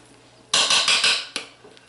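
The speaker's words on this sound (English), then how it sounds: "I just take the edge of my knife, my cake knife, and chop it up, and then just stir it back down" A cake knife chops and stirs through soap in a crockpot, making a quick run of close metallic scraping and clinking strokes for under a second, then a lone sharp tap and faint ticks.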